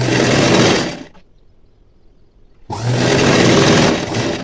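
A sewing machine runs a long stitch along blouse fabric, starting and stopping in two loud sustained bursts with a near-silent pause between them; no one talks.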